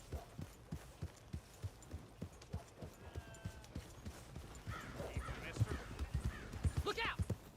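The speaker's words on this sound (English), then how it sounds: "a well-bred horse you got there" Horse hooves clip-clop in a steady rhythm in the video game Red Dead Redemption 2, with a voice speaking and brief music-like tones layered over the later hoofbeats.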